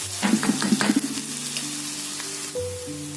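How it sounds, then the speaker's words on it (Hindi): Finely chopped ginger and garlic go into hot oil in a kadai for chilli paneer, popping in a quick burst of crackles at first and then settling into a fainter sizzle, with a steady background hum. "तेल के गर्म होने पर हम 1/2 टेबलस्पून अदरक डालेंगे बारीक कटी हुई, और 1 टेबलस्पून लहसुन डालेंगे बारीक कटी हुई।"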